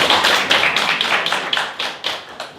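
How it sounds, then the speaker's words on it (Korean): Audience applause for a lawyer at the close of a labour law education lecture, a short burst of brisk, fairly even clapping from a modest group, loud and close. "강해주신 김주혁 변호사님께 박수 한번."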